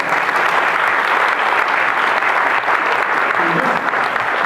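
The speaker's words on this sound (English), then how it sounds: "Let's give them a real big round of applause." A crowd at a community prayer breakfast in Davidson County gives a big round of applause, dense and sustained clapping from many people in a large room, steady and loud from start to finish.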